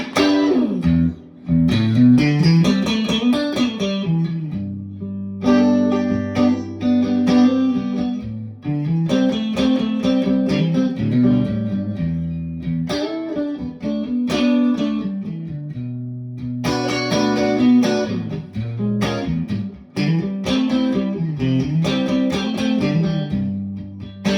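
Electric guitar chords and picked phrases ring out through a Fender Deluxe Reverb amp, with a clean, spacious reverb tail lingering between repeated strums.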